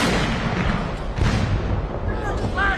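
Army gun salute at a state military funeral for India's first Chief of Defence Staff, seventeen-gun honours; heavy booming reports echo over crowd murmur and distant voices, with a whistle-like tone near the end.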